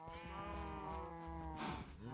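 Cows in the Minecraft Vault Hunters modpack give drawn-out, overlapping moos, one long low call swelling and bending in pitch, heard alone and fairly clear with no talking.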